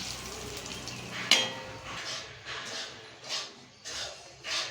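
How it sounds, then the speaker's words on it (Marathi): Semolina roasting in ghee in a pan over medium heat gives a soft continuous sizzle, broken by a sharp clink of the utensil against the pan and repeated scraping stirs. "सगळा रवा मीडियम वरती भाजायचा"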